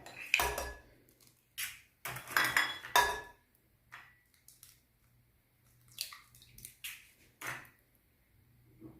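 Eggs are added to cake batter in a bowl: a series of sharp clinks and taps of shell and utensil against the bowl, close and intermittent, separated by quiet gaps.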